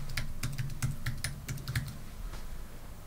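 Quick, steady keystrokes on a computer keyboard while entering a name into a Node-RED flow on a Raspberry Pi, close and soft, a rapid run of clicks that thins out toward the end.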